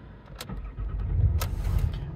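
A Land Rover Discovery 3 with the 2.7 TDV6 diesel engine cranks and catches, then settles into a low, steady idle rumble, recorded close with a few sharp clicks over the engine.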